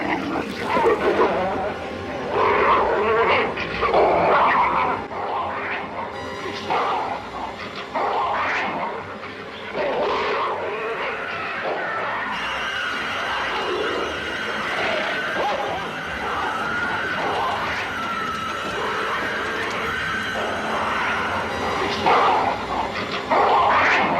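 Agitated dogs bark, yip and whimper near a demon statue in The Exorcist, loud yelps and whines mixed with other animal cries and talk throughout.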